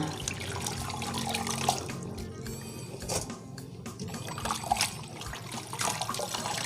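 Water pouring and splashing into a basin for the third rinse of mustard greens, a continuous close trickling rush with small surges and dribbles, no talk.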